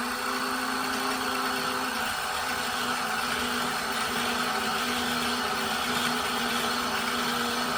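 An electric bobbin winder motor spooling thread onto a bobbin, a constant steady whirring hum with a high-pitched whine, close and unbroken throughout.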